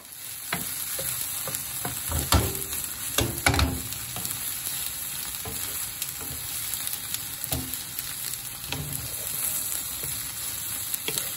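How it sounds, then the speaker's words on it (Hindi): Egg omelette frying in a pan, a steady close sizzle punctuated by irregular clicks and scrapes of a utensil against the pan, with no talking. "अभी मैं आमलेट बना लेती हूँ बच्चों के लिए।"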